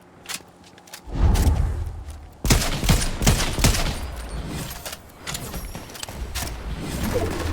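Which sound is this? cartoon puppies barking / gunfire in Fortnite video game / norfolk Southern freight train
gunfire in Fortnite video game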